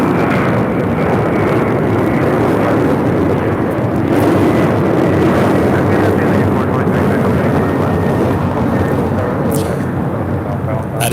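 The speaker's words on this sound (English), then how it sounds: "we got a Delta flight heading out here to JFK" Delta Airlines flight 670, a 30-year-old Boeing 737-332 extended range, departs LAX for JFK with a loud, steady broadband jet roar that holds throughout. Voices talk faintly underneath.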